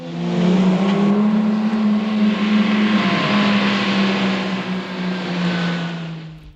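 A car engine from a 1960 Twilight Zone episode revs and drones loudly and steadily, its pitch shifting slightly as it drives close by, then cuts off abruptly.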